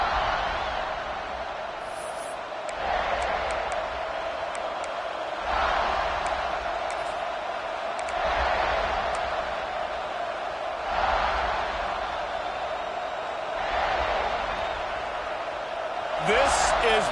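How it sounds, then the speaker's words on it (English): Stadium crowd noise in a College Football 26 game at South Carolina, a steady broad roar that swells in repeated waves every few seconds, with a commentator talking over it throughout. "This crowd ready to make its presence known."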